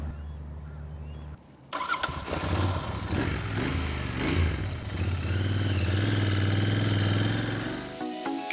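A car engine starts with a clattering crank and then settles into a steady, moderately close running hum as the ride begins, with no one speaking.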